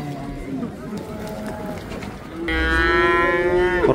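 Cattle at a livestock market in Taraz, where heifers are being sold, give a loud, drawn-out moo in the second half, rising over a noisy crowd with people talking throughout.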